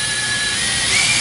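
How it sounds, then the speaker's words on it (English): A power drill bores out rivets holding the drive bays of a computer case, giving a steady, loud high-pitched whine for about a second with no talking. "So they'll spin, but usually your drill bit is going to be going faster."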